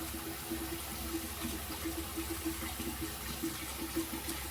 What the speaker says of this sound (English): It takes forever for my water to heat up